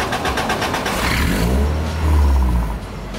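The engine of a Toyota AE86 race car, just transplanted, cranks with rattling clicks, catches, and then revs up in a deep swelling roar before settling, close and loud with no speech.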